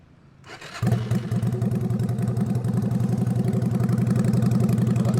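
A custom Sportster-style bobber motorcycle engine cranks and fires up after a brief quiet moment, then settles into a loud, steady, throaty idle with a rhythmic low pulse.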